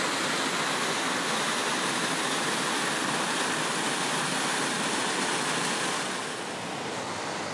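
Rushing water of streams and small waterfalls in a humid Kloof Forest in the Drakensberg, South Africa, a dense continuous hiss of falling water with no breaks, easing slightly toward the end.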